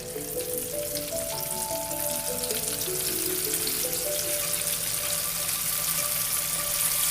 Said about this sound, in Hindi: फिर साथ में इसको हम कुकिंग ऑयल में डालते जाएंगे